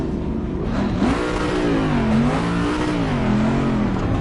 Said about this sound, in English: the thing I love about this car is just the sound of the engine